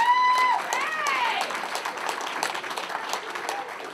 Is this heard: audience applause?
yes